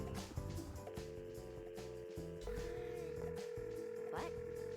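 A phone call rings out in the video game The Big Con, a steady electronic tone that repeats over layered game music, with a voice briefly audible.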